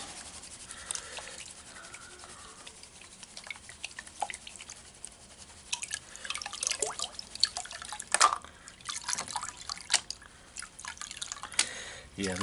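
Gold pay dirt from the Bering Sea gets panned in water, with soft sloshing, dripping and gritty swirling close by, growing busier toward the end, while someone talks quietly at times.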